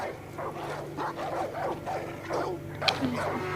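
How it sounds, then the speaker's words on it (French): A dog barks repeatedly in the Far Cry 5 video game, a series of short, moderately loud yips and woofs over a steady low game hum, with a brief sharper sound near the end. "Oh, il y a un chien."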